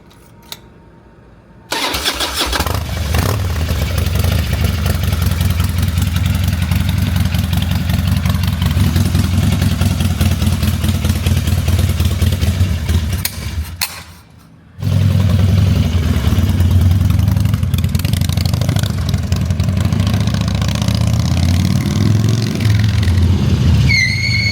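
A carbureted motorcycle engine cranks and catches, then settles into a loud, steady, close idle. It cuts out briefly and restarts around the middle, then keeps idling evenly.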